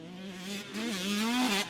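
A 2025 KTM 150 SX two-stroke dirt bike with an FMF Factory Fatty expansion chamber and titanium silencer revs sharply in short bursts, its buzzing exhaust pitch climbing and holding before cutting off.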